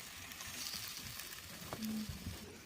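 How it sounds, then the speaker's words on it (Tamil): Ingredients for a bottle gourd and cowpea curry sizzle softly in a pan, a faint steady frying hiss with a few light stirring clinks and no talking. "இப்போ இந்த 4 பொருளையும் வதக்கிக்கலாம்"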